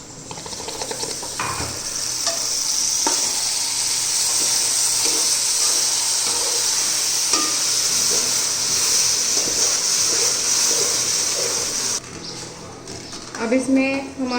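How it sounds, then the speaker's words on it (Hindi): A spoon stirs rice with sugar and milk in a pot, a steady wet sizzle and scraping running throughout at close range, with a few clinks and a brief break near the end. "अब इसमें हम आहिस्ता आहिस्ता चमचे से चलाते जाएंगे ताकि चीनी अच्छी तरह से मेल्ट हो जाए।"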